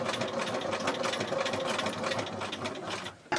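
A sewing machine runs a steady straight stitch along the edge of a fabric postcard, its needle chattering evenly and continuously at close range until a brief stop near the end.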